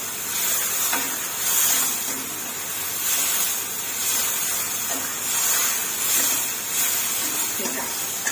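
Mushrooms being stir-fried in a pan give a steady bright hiss and sizzle, with soft periodic scraping of the spatula rising and falling every second or so.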